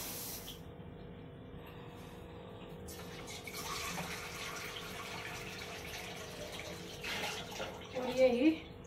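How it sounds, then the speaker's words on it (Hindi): Water is poured from a bowl into a kadhai holding sugar for syrup in a home kitchen, a steady hissing splash that swells and gets louder near the end. "और यही एक बाउल हमने पानी डाल दिया है, ये थोड़ा सा सवा बाउल हमने पानी का डाल दिया है इसमें।"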